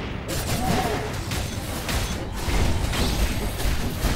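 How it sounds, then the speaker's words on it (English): Explosions in the action platformer Skul: The Hero Slayer, a dense, continuous barrage of blasts and crashing impacts layered with game effects, loud and busy throughout with no pauses. "we are taking damage because of the explosions"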